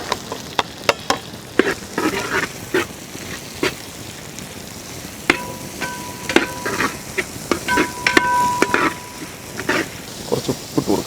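Curry leaves and small shallots crackle and spit in a hot pan of oil over a village cooking fire for a turkey curry, with a steady sizzle broken by frequent sharp pops and clicks.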